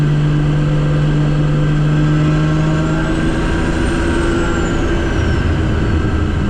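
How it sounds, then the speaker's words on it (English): A 550hp 2JZ-engined car pulls hard in third gear, its engine a loud, continuous roar sustained right up close throughout, with a faint rising and falling whistle overhead. "Third gear hits, this car just goes, man."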